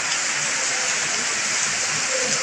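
Heavy rain pours steadily during an afternoon thunderstorm, a loud, dense, unbroken hiss of drops beating on surfaces nearby.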